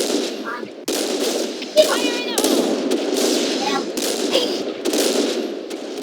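Video game gunfire, rapid bursts of shots and clanging impacts that come in close, loud, repeated volleys with brief gaps, and a voice that breaks in now and then.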